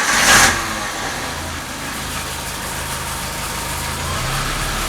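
A Suzuki Samurai engine idles steadily as it warms up, a constant mid-pitched hum with a brief louder burst at the start and no voices.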